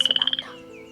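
A frog croaks in a quick rhythmic burst of about seven sharp, bright pulses, then a softer trailing tone fades out. The call is close and clear with no talking.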